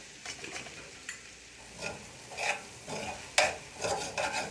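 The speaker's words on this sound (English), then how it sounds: "give it a good stir" Indian Chinese noodles stirred in a well-seasoned wok, a low sizzle with a series of scraping, tossing strokes at irregular intervals, close and moderately quiet.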